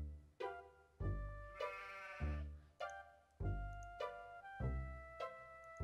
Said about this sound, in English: Why is there a sheep here?